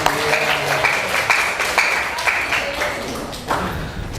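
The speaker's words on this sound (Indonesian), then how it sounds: "Kasih tepuk tangan bagi nilai yang nilainya 80." Students in an Indonesian classroom clap for a classmate's score, a moderate burst of applause with some tapping and faint voices, fading toward the end.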